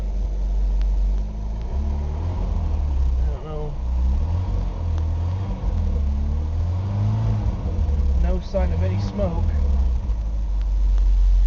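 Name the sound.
1991 Chevrolet S10 pickup engine running and revving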